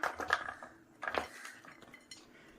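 Coconut goes into a bowl sitting on a kitchen scale, with soft, quiet clattering and a couple of light clinks from the bowl, close by and without talk.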